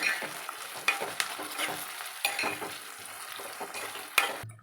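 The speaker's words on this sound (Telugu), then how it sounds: "ముందుగా కట్ చేసి పెట్టుకున్న శామగడ్డలు ఇందులో వేసుకొని బాగా కలుపుకోవాలి" Taro pieces being stirred into sizzling fried ginger-garlic paste in a pan, with steady frying crackle and several louder scraping stir strokes, close and alone.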